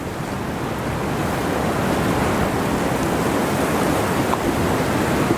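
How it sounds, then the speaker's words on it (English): Hard wind from a blizzard sweeps across a snowy fishing cove as a loud, constant roaring rush. It holds steady throughout with no voices. "You hear the wind blowing hard"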